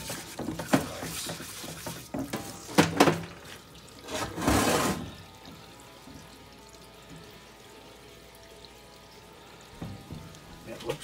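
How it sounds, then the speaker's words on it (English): An old Willys flathead cylinder head being rinsed, with bursts of splashing, pouring water over metal in the first five seconds and then quieter background, with people talking nearby. "giving the old head a good wash and rinse"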